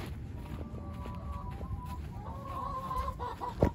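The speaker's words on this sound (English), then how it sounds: "the poor little chickens have been in their coop" Hens cluck softly inside their coop, a few close, drawn-out calls and murmurs over a quiet background hum, ending with a brief sharper noise.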